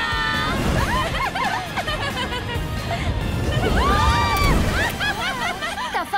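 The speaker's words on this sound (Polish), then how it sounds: "Ta fala nieźle nas zaskoczyła." Cartoon ocean wave splashes over a pier in a Polly Pocket animated episode, a broad rushing wash of water under excited overlapping character voices and squeals.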